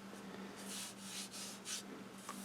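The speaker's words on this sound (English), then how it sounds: "Now I'm going to sand the outside" Sandpaper rubs against a spinning English walnut natural-edge bowl on a lathe, giving soft, faint swishing strokes that swell and fade in short bursts over the low steady hum of the machine.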